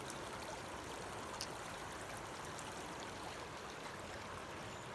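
Floodwater rushing steadily into a roadside culvert under a county road, a continuous broadband wash of running water at even volume with no pauses and no voices.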